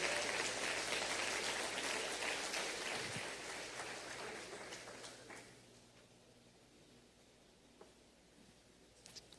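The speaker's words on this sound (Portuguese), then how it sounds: "Você pode aplaudir o Senhor?" A church congregation applauds, dense clapping at first that thins and fades away toward the end, leaving faint scattered taps.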